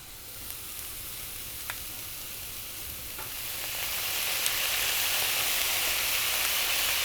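Vegetable fried rice with sliced spring onions stir-fried in a hot pan after soy sauce goes in, with a continuous close sizzle and hiss that swells louder partway through, alongside light stirring scrapes.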